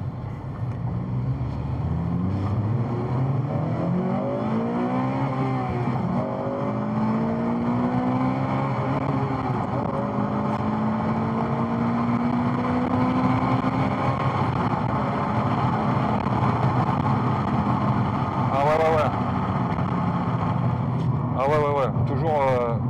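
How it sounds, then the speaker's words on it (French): A Honda Civic FN2 Type R accelerates hard, heard from inside the car: a loud engine note climbs repeatedly through several gears, with shifts between rising pulls. "On va voir un peu le ressenti sur l'accélération d'une FN2 Type R de chez Honda."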